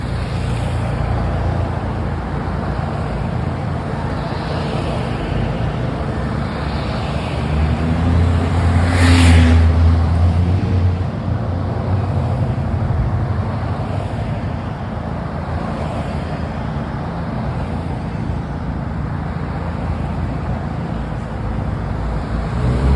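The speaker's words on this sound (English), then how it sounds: "Just count the number of cars that you see in this video." Presidential motorcade cars driving past in a steady stream, a continuous low road roar that swells briefly midway as a heavier vehicle goes by, with no voices.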